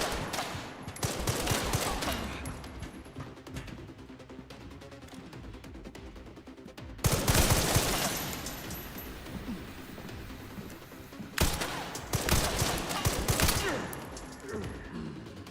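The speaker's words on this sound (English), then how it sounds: "they can shoot you through the catwalk" Enemies in Resident Evil Requiem fire bursts of rapid gunfire, dense fusillades breaking out in three loud waves with quieter gaps between, close by, under some speech.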